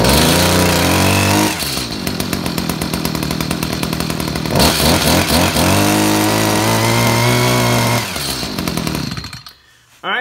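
Stihl HS 45 two-stroke hedge trimmer engine running loud and close, revving high then dropping toward idle and climbing again before cutting off near the end, with no talking.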